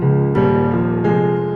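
Sampled Yamaha grand piano from an EXS sampler layered with a Steinway D piano that fills in the top end, playing two sustained chords, loud and close with no other sounds.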